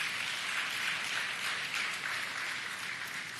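An audience at a community talk claps in a soft, even patter of applause, steady and fairly distant, gradually thinning toward the end.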